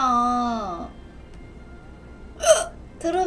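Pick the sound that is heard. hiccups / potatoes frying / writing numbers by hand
hiccups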